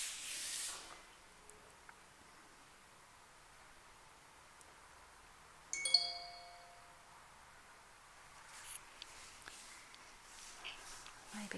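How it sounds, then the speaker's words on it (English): A mobile phone chimes once with a short ringing alert tone in a quiet kitchen, a single bright ding that fades over a couple of seconds amid faint hiss. "that's my phone going off"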